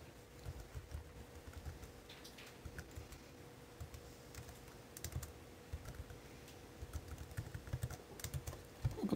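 Someone types a username and password on a computer keyboard, making quiet, irregular keystroke clicks in short bursts that grow slightly denser toward the end.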